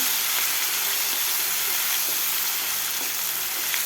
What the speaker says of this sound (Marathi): मसाला आपल्याला दोन ते तीन मिनिट व्यवस्थित परतून घ्यायचं आहे